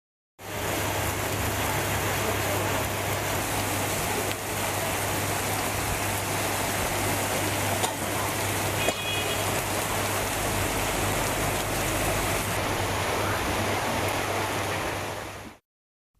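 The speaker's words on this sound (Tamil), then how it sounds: "அரை மணி நேரத்திற்கு மேலாக நீடித்த மழையால் சாலையில் தண்ணீர் பெருக்கெடுத்தது" Heavy rain falls on a residential area during a thunderstorm, a loud, constant roaring wash that runs unbroken for about fifteen seconds, close and dense, with water running on the road and no talking.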